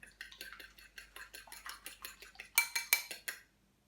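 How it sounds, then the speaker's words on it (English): Egg, salt and oil tipped into a bowl for challah dough, giving a run of quiet clinks and scrapes of utensil against the bowl, with a louder, sharper burst of clatter near the end and no talking. "So that's my egg and my salt and my oil all going in."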